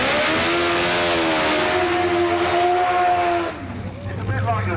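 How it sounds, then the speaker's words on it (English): A top fuel drag racing bike doing a burnout, its engine screaming loud and close with a rising, sustained roar that drops away abruptly near the end. "So here's the burnout from BJ."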